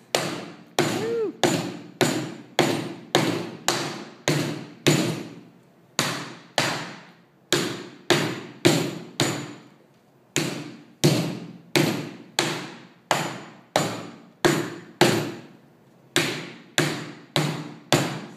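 Wooden board pounded repeatedly against clay packed into a ceramic tile mold, a long series of sharp, loud thuds in quick bursts of four or five with short pauses between, no voices.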